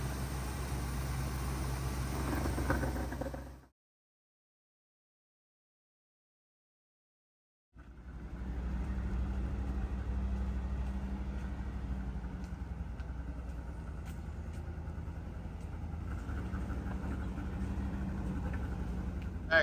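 A 1975 Corvette drives along, its engine a steady low rumble with road noise, broken by a few seconds of total silence before the droning resumes and carries on evenly.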